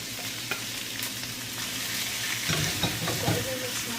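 Squid and mixed seafood sizzle steadily as they are stirred in a hot pan, a constant close frying hiss with occasional scrapes and clinks.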